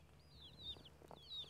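A hen clucks twice at a distance in a village yard, two short chirpy calls about half a second apart over quiet outdoor background.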